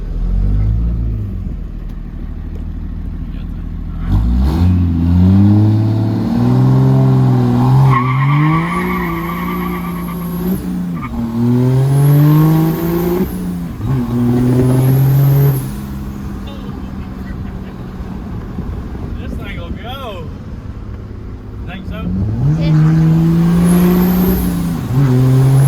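Straight-piped Coronado race truck engine revving, ethanol-fed, loud and near with repeated rising and falling revs across the clip, mixed with people talking.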